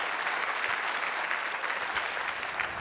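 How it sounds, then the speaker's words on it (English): A large conference audience at a closing plenary on healthy cities gives a steady round of applause for a man who has stood up, the clapping sustained and even, heard from a moderate distance with no talk over it. "Can we give him a huge smart growth round of applause?"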